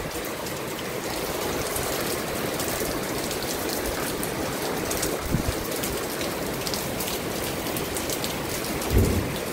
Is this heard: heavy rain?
yes